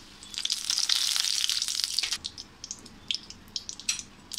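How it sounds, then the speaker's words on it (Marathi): Bay leaves hit hot oil in a pan with a bright, loud sizzling hiss that fades after a couple of seconds into scattered pops and crackles. "आता त्यात आपण टाकूया ही तेजपत्त्याची पानं"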